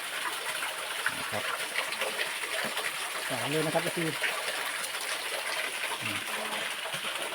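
Water flows steadily over large rocks at a waterfall by a Buddhist monastery on a hill in Thailand, a constant gushing wash running beneath someone talking throughout.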